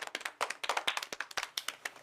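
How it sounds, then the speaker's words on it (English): A small audience at a children's writing workshop claps, with distinct sharp individual claps in an uneven rhythm, fairly close and quiet, and no talking over it. "We're going to clap now?"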